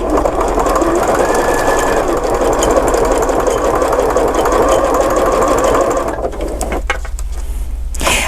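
A sewing machine runs steadily, stitching a decorative seam along a notebook cover, its loud, even mechanical whir holding for several seconds before easing off near the end.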